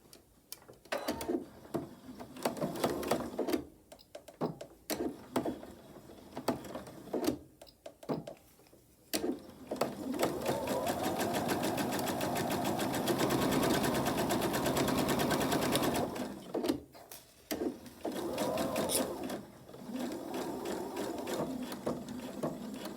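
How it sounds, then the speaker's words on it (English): A sewing machine stitches a quarter-inch seam on a small fabric travel tissue cover, its needle chattering in a rapid, steady rhythm. It runs in several bursts, with a long continuous run in the middle and short stops between the others. "I'll take it to the machine and sew 1/4 inch seam allowance right along here."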